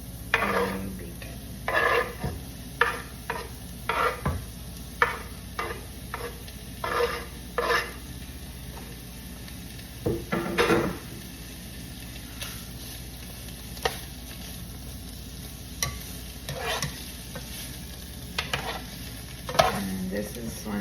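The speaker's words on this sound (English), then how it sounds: "add my bacon." Thinly sliced bacon frying in a pan for Southern-style cabbage: a soft sizzle underneath, broken by frequent sharp scraping and clacking stirs that come in uneven bursts, close and fairly loud.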